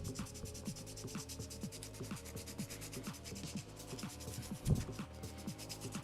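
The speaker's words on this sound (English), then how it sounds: "and then I take some sandpaper" Sandpaper rubs against a pencil tip to sharpen it for drawing, producing soft, quiet, rhythmic scratching strokes that repeat steadily with no talking.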